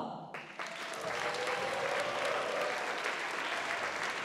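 Audience applause at a dance concert in a culture hall, rising from a brief lull into a sustained, dense wash of clapping.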